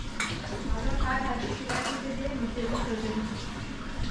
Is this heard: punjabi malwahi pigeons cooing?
no